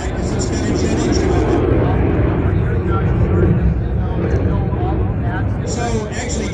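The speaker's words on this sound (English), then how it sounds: "the BD5J sounds kind of like that because it's got a jet engine" A BD5J, a small single-seat jet aircraft, at the Oshkosh airshow, producing a loud, steady jet engine roar that fills the whole stretch, with voices talking faintly underneath.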